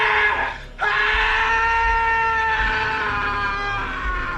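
A man screams loudly and at length in a film, with a brief break early on before a sustained, piercing yell.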